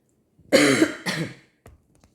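Two harsh coughs close together, followed by a faint short exhale, near and fairly loud with no speech.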